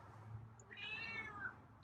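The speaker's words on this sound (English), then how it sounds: "So finally got some meows." Feral cat giving a single drawn-out meow, faint and close, after a brief quiet stretch with low background rumble.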